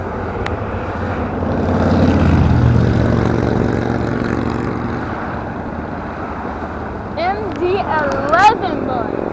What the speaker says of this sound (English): Alright, everyone, that was a MD-11 that landed.